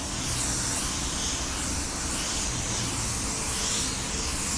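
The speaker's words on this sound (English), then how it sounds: "put your SX103 in your gun. Give it a light mist on your panel." A paint spray gun mists SX103 onto a panel as a continuous, loud, close hiss with a faint pulsing, heard alone without talk.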